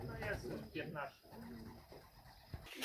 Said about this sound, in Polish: jest kolejny gołąb